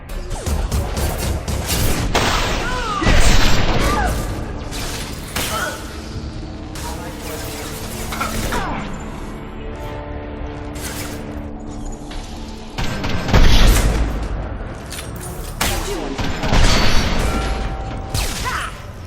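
Gunfire and explosions in Mass Effect 2: Legendary Edition combat, with dense bursts of shots, heavy crashing impacts and booms throughout, loud and close, mixed with game voices and music.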